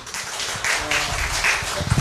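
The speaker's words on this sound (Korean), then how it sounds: "자, 박수." A small lecture audience at a talk on depression gives a short, light burst of clapping that sounds thin and somewhat distant in the room.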